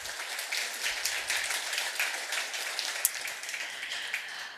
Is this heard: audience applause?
yes